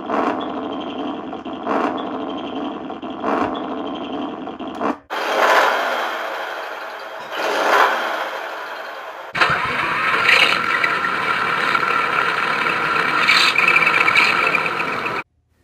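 A 1970s V8 truck engine reproduced on an RC truck cranks and starts, then idles and revs in rough pulsing bursts. The passages are separated by short breaks, and the engine ends on a loud, steady running roar.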